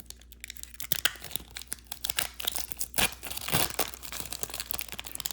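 The tamper-proof foil wrapper of a 1991 Upper Deck football card pack is torn open, a close, loud run of crinkling rips and crackles lasting several seconds with no talking.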